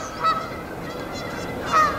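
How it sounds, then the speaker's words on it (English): Geese foraging on golf greens honk twice, the calls fairly distant and separated by a quiet outdoor pause. "Geese are starting to stick around here to eat."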